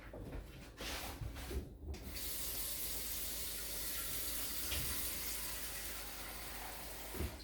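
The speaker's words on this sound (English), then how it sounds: "we'll add about 2 cups of water." Water added to a pot for cooking clams on a butane stove, a steady running, splashing wash that fills nearly the whole stretch after a few brief knocks at the start, close and fairly loud.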